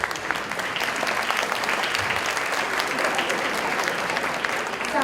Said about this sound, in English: I think you all can say it with claps.